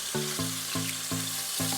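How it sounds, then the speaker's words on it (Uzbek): Chicken breast frying over high heat in a pan, seasoned with salt and pepper, giving a steady close sizzle with faint rhythmic thuds or stirring sounds underneath, no voices. "Tovuqimizni qovurishni boshladik."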